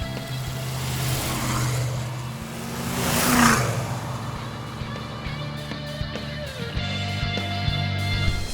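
A 1983 Chevrolet Monte Carlo hotrod engine drones low under acceleration while driving, swelling into a louder rev midway before settling back to a steady, rumbling cruise heard from inside the car.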